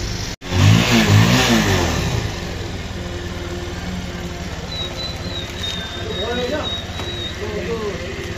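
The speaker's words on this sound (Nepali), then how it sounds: "बाइक स्टार्ट गरेको" A motorcycle on a mountain road trip starts up and revs hard, a loud surge at first that settles into a steady mid-pitched engine drone, with voices over it.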